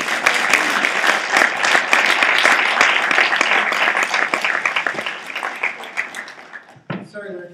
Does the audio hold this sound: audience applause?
yes